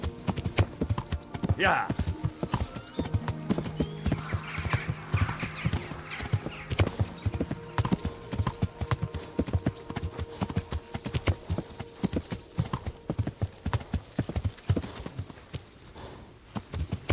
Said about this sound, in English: I'm riding this horse perfectly